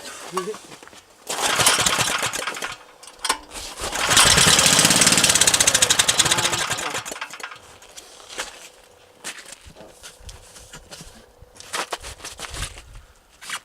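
A Geet-style engine at a demonstration runs in uneven bursts, surging to a loud, rough roar for a few seconds before dropping back to sputtering, with people talking near it.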